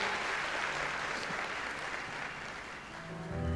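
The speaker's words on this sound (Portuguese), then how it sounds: "Aplauda o Senhor, fique de pé, vamos orar." Congregation applauding together in a church service, a broad steady wash of clapping throughout, fairly distant and even, with some low murmur near the end.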